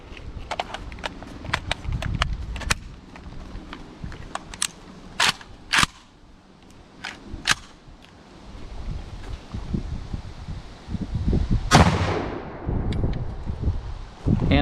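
A Romanian PSL marksman rifle firing outdoors, several loud sharp reports spaced irregularly, with handling clatter and rustling between shots and a longer rolling blast near the end.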